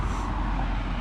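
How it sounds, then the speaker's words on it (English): Steady road traffic noise in Adelaide, Australia, a continuous low broadband rumble of passing vehicles heard fairly close and loud with no talk. "excuse the traffic noise"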